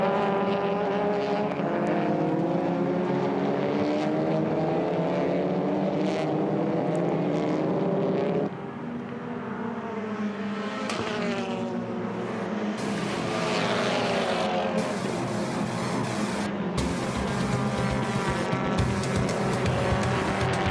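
TCR touring cars racing at Queensland Raceway in the TCR Australia Series, loud engines howling and shifting gears close by as the cars pass, the engine pitch rising and dropping continuously with no commentary over it.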